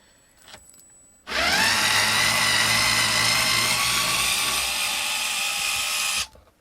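A Black and Decker gyro cordless screwdriver whines steadily for about five seconds in reverse, backing a stalled screw out, then stops abruptly; faint handling noises come before it.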